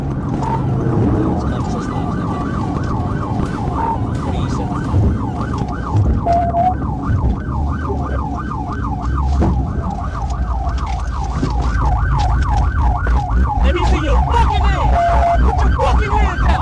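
A loud wailing police car siren sweeps up and down continuously and close by during a high-speed chase, over engine rumble and road noise.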